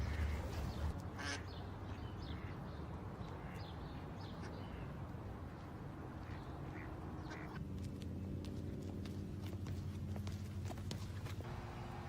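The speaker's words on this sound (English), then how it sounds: "Well, there's a lot of ducks here." Ducks quack in an outdoor spot where many of them gather, their calls fairly faint and scattered over steady ambient noise, with footsteps or hoof-like clopping partway through.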